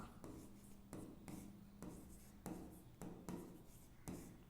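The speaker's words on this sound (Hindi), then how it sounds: "तो यहां से हम लिखेंगे कुल अंक।" A pen writing on paper during a Hindi maths lesson on permutations, close scratchy strokes coming in regular bursts separated by short pauses, with faint room tone between them.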